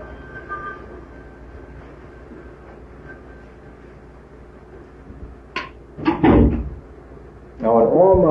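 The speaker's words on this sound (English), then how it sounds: "You want to close that door so we don't hear that phone?" A door is pushed shut indoors with a short bump and thud, preceded by faint shuffling, and a voice is heard speaking just afterward.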